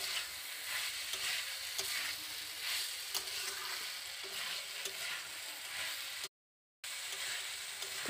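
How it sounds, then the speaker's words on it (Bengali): Potatoes and soybean chunks fry with spices in a wok, a steady close sizzle broken by soft stirring scrapes, cutting out briefly near the end. "এবার আমি আলু আর সয়াবিন মশলার সাথে কষিয়ে নিচ্ছি।"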